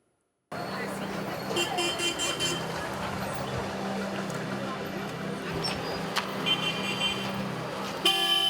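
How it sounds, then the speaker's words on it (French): Car horns toot and honk repeatedly through dense street traffic in Abidjan, Côte d'Ivoire, over a constant roar of engines and a background babble of voices, with a sharper, louder horn blast near the end. "Klaxon, moteur, haut-parleur, musique amplifiée."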